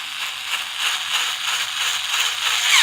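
Steady, close ratcheting clatter from a hand tool tightening a bolt on the blade of a Ryobi RHT 650 hedge trimmer, continuous for a few seconds with no talk.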